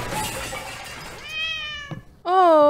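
A cat in a horror video game gives two clear meows, the second louder and closer, after a stretch of noisy rustling game ambience.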